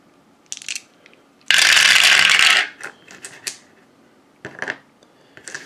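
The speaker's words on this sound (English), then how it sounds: "And then let's roll our 10 German dice." Ten dice rolled for a World War I trench wargame clatter in one loud, dense rattling burst lasting about a second, followed by scattered small clicks and taps as the dice settle and are moved.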